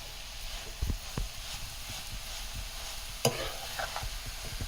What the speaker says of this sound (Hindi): फिर आपको चीनी को गाजर में अच्छे से मिक्स करना है